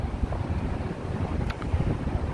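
Wind gusts across an outdoor museum terrace nine floors up in foggy New York City weather, a steady broadband rush buffeting the microphone without pause.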